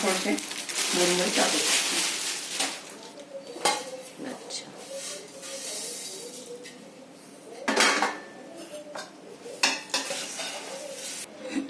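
A metal spoon scrapes and clinks against a pan as puffed rice chivda is stirred, with irregular clattering strokes close up and some background voice.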